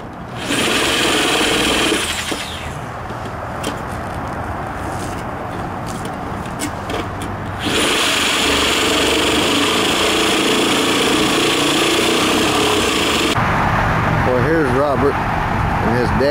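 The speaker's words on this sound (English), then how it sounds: "Robert attempting to cut a round hole. Robert about to penetrate the roof." Power tool cutting a round hole through a roof, a loud continuous grinding whine that shifts in pitch and intensity partway through, close by, with people talking over it.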